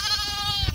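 A single close, loud bleat from a sheep or lamb on a farm yard in March, among ewes and lambs being walked across frozen ground.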